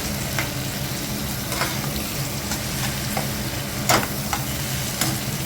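White pumpkin and dal curry being stirred in a pan, a dense close sizzle with repeated rhythmic scrapes of a spoon against the metal, one louder knock near the end.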